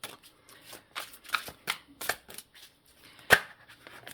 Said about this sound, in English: So I'm going to pull 3 cards for their thoughts and then 3 cards for their feelings.